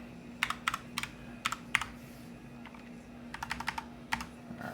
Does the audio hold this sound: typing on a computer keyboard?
yes